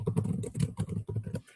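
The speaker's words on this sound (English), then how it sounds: "I'm already getting used to typing that long of a workgroup name." Someone types on a computer keyboard during an online meeting: quick, irregular bursts of close, clattering keystrokes, a busy run of taps with short pauses between them and no talk.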